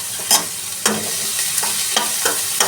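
Cumin seeds and a pinch of asafoetida sizzle in hot oil, with a spoon stirring them in a few sharp scrapes over a steady crackling hiss.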